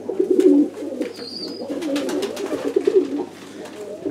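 Pigeons in a clean loft coo in low, rolling bursts close by, several birds overlapping in a continuous murmur, with a brief higher chirp and faint rustling.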